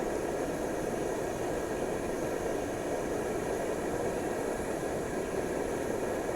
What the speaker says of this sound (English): Great cooker, this Fox cooker. The only downside to it is it is a bit noisy. It sounds a bit like a fighter jet,